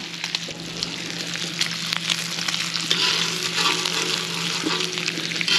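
Burgers sizzle steadily on a hot pre-seasoned cooking surface over a portable flat-pack wood fire pit, a close, even frying hiss with faint crackle and no talk.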